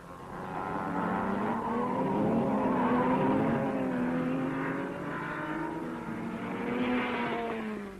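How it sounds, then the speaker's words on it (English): Racing cars at the 1961 Le Mans 24 Hours, several engines droning and rising in pitch together at close range, a loud sustained roar with shifting tones and no voices. "The Rodriguez Ferrari number 17 is a private entry from the North American racing team, and now it heads the works cars in this furious battle for the lead"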